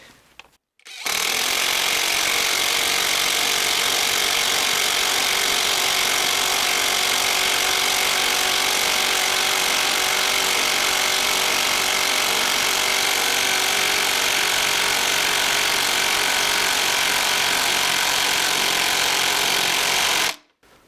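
A Litheli U20 cordless 1/2 inch impact wrench hammers on a bigger, longer bolt with a 1/2 inch head, giving one loud, continuous rattling burst of about 19 seconds that starts and stops abruptly.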